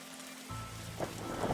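Steady rain in the detective video game The Darkside Detective, falling around a leaky squad car: a soft, continuous hiss that thickens as a low hum joins partway through, with no voices.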